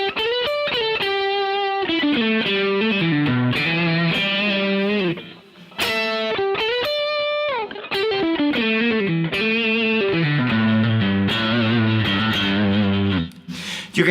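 Electric guitar through an Origin Effects Revival Drive pedal giving an overdriven, valve-rectifier tone: compressed, juicy high-gain lead lines and chords played continuously and loudly, with a brief drop in level midway.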